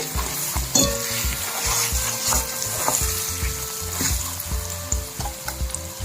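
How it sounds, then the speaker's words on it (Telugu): Wood apple pulp is stirred into hot oil for a chutney, with a continuous close sizzle and repeated scraping, knocking strokes of a spoon against the pan in a steady rhythm, no voices. "ఈ వెలగపట్టు గుజ్జు అంతా ఇందులో వేసేద్దాం ఈ ఆయిల్ అంతా దీనికి పట్టేలాగా కలుపుకుంటూనే ఉండాలి"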